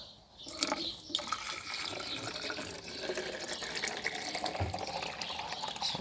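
Water is poured into a container at a rabbit-keeping farm, making a steady, close rushing and filling sound with a slight burble. It plays alone, without talk.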